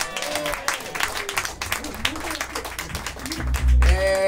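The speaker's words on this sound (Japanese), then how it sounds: "じゃあ、あゆみに拍手してください。" Live-show audience in a small club claps for a band member named Ayumi, scattered applause mixed with voices and cheers, building toward the end.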